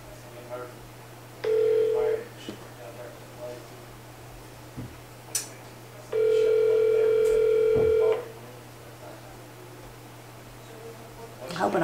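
Telephone ringback tone heard while calling someone, two steady ring bursts separated by a pause, clear and close, with faint rustling between them and no speech.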